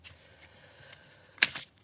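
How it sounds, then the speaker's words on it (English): Tarot cards get shuffled in one quick, crisp riffle burst near the end, after a quiet pause with faint room noise. "as I shuffle the cards for you"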